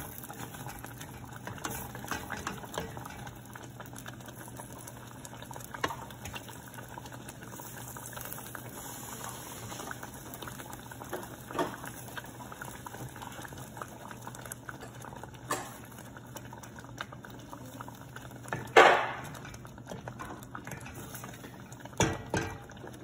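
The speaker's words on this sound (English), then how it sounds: "Adding a little bit water so that it doesn't get too thick." Quiet, steady simmering and bubbling from a pan of paneer curry, with a brief splash of water being added partway through and occasional utensil clinks.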